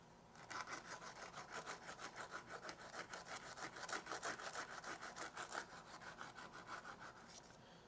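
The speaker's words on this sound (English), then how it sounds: "We'll just sand her a little more." An engine valve being hand-sanded, a steady back-and-forth rasping scrape in quick regular strokes, close and moderately quiet, running alone for nearly the whole stretch.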